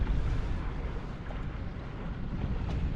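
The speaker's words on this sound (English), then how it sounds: "here is a little power boat motoring out of Somme Sound" A small power boat motors out of Somes Sound at Mount Desert Island, Maine, heard as a steady low engine rumble mixed with wind buffeting the microphone and water noise, with no talk.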